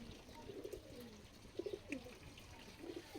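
Pigeons feeding on scattered grain give soft, low coos in short bursts, several calls spread across the moment, fairly close but quiet, with a faint rustle of pecking and movement beneath.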